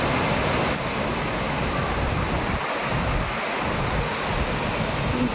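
Gumnasal (Phaslang) Waterfall in Amri, West Karbi Anglong, pours as a steady, dense roar of falling water, loud and continuous throughout with no voices.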